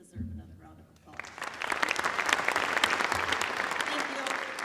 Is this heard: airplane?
no